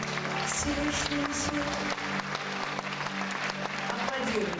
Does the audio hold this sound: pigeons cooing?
no